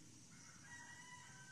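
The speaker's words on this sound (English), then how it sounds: "The chickens are protesting, aren't they?" Chickens clucking faintly at a distance, low and steady beneath a broad wash of outdoor background noise.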